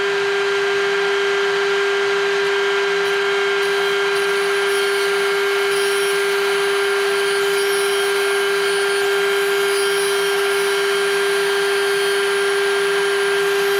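Power tool fitted with a rescue bit cutting at high speed, around 24,000 RPM, giving a loud steady whine with a strong sustained tone and grinding noise throughout, no talking.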